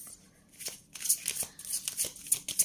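Tarot cards are shuffled close by in quick, irregular bursts of crisp riffling and flicking, each pass short and papery against a quiet room.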